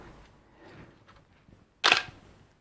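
A camera shutter in normal mode fires once, a single sharp, crisp click up close after a moment of near silence.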